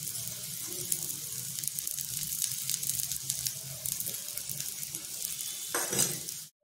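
Masala tikki patties frying in oil in a pan, with extra oil added over them, give a steady close hiss and crackle that holds level throughout, with no talk.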